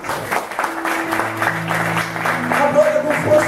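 A church congregation at a youth service claps together in a loose rhythm while sustained music tones and voices carry along underneath the applause.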